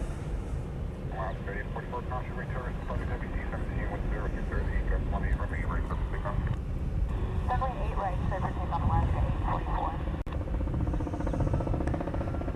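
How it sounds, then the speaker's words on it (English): Hawaiian Airlines Airbus A321 departing Honolulu, a steady broad roar of jet engines heard from a distance, with someone talking over it for most of the time. "It's Hawaiian Flight 844. It's a 321 heading off to Seattle."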